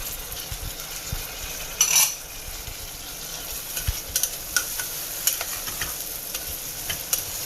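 Tomato sizzling in a pan of tarka dhal cooked with ghee or butter, a steady hiss with a sharp burst as it goes in, followed by scattered stirring scrapes and light utensil clicks.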